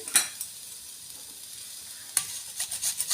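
Coconut filling being stirred in a pan, heard as a few faint scraping strokes with a soft sizzle, quiet and without speech.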